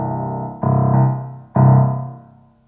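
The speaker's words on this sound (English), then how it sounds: "On the bass, I hit two octaves at the same time." Two loud piano bass notes, each struck in octaves, ring out one after another with full sustain before fading, alone with no voice.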